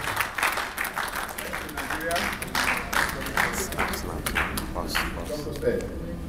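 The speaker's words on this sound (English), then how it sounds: "Can we give him a locomotive round of applause" Audience applause at the 2017 National Crimewatch award ceremony at the Sheraton in Ikeja, Lagos: a steady patter of many hands clapping throughout, close and fairly loud, with voices mixed in.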